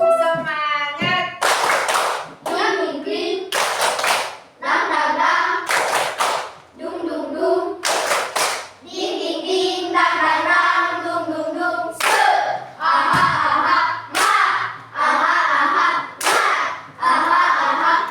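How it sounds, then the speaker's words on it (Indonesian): Schoolchildren in a classroom perform a rhythmic spirit clap, bursts of loud, sharp group clapping in a patterned beat with short pauses between phrases, and children's voices chanting along between the claps. "Tepuk semangat."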